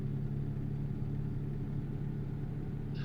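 A truck engine in American Truck Simulator drones steadily at a low, even pitch while climbing, a continuous mid-level rumble with no speech.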